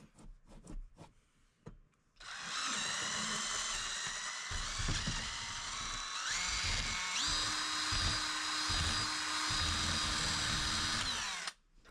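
Power drill boring a 3/4 inch hole through a house wall from the inside, a loud continuous high whine with grinding, sustained for about nine seconds after a few faint knocks and handling sounds.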